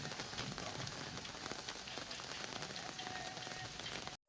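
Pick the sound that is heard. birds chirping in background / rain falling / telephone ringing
rain falling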